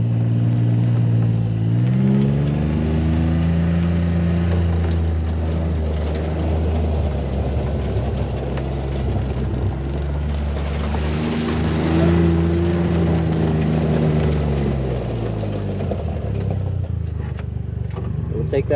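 A vehicle drives over toward a set of gates, its engine a steady close rumble that rises and falls in pitch as it moves, loud and continuous throughout.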